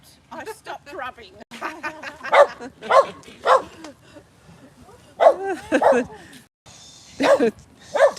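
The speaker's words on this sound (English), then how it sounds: "Doggy cry." A dog cries in a string of short, sharp yelping and whining bursts, loud and close, separated by brief pauses.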